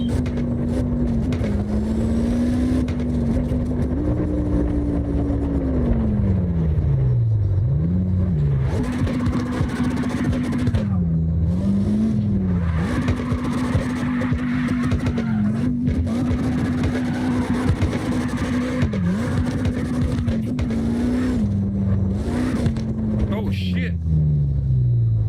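A Mitsubishi Evo drifting in the CarX Drift Racing video game, its engine holding a loud sustained drone that rises and falls with revving and shifts, with bursts of tyre noise, all under steady excited talk from a player.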